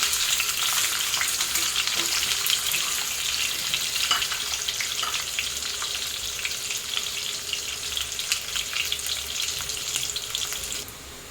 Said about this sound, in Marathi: चांगले ब्राऊन कलरचे होईपर्यंत आपल्याला फ्राय करून घ्यायचे आहे